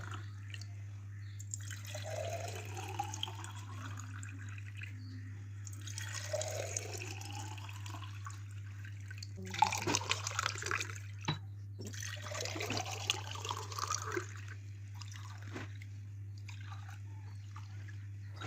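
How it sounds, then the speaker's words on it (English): Fresh water trickling and splashing intermittently into glass bottles over a steady low hum, with pouring bursts rising in pitch as they fill. "we will fill all these glass bottles with fresh water"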